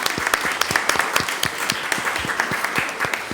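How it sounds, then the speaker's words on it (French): A church congregation at a Sunday service applauds in steady, dense clapping that carries on throughout, fairly close and lively, with no talk over it. "qu'on puisse les applaudir"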